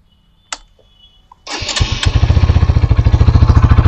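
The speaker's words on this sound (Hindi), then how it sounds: "साउंड वगैरह मैं सुना देता हूँ आपको एग्जॉस्ट का।" A 2023 Hero Xtreme 160R 4V motorcycle starts after a click and a short pause, then its exhaust settles into a loud, close, rapid putter at idle.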